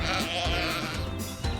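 A sheep bleats repeatedly in a wavering, nasal voice, close and clear, with several short bleats in quick succession and no talking.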